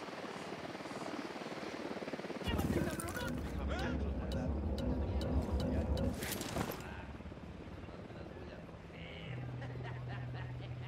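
An enemy Unidad helicopter approaches in the Ghost Recon Wildlands video game, its steady rotor drone rising suddenly and holding for several seconds before easing off. Radio voices and other game sounds run underneath.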